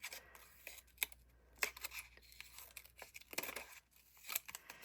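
Scissors trimming a bullet journal paper page, a few short crisp snips and paper rustles at close range, fairly quiet, with no talk.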